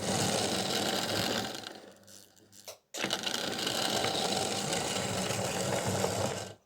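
An Airfix Royal Scot model locomotive runs on a test track with a steady, close mechanical whir. The whir briefly fades and stops near the middle, then resumes just as steadily.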